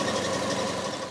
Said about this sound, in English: We have finished, apart from this very slightly rough idling.